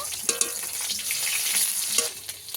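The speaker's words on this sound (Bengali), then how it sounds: "এই মাছটাকে আরেকটু ভেজে নেব।" Pieces of tul fish fry in hot oil with a close, continuous sizzle, cut by a few sharp clicks and scrapes of a spatula turning them. No talking.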